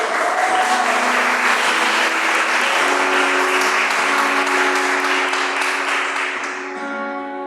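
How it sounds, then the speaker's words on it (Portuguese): An audience at a Catholic religious talk breaks into loud, steady applause that carries on for several seconds while sustained musical tones sound beneath it, tapering slightly at the end. "E pode aplaudir isso"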